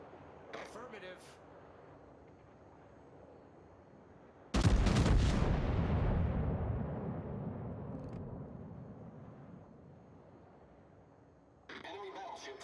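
A single heavy naval gun salvo in World of Warships booms suddenly and rolls off over several seconds, with quieter game ambience and radio chatter around it.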